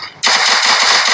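Rapid automatic gunfire from a mobile shooter video game, a dense burst of rattling shots starting abruptly and continuing loud and close for about a second.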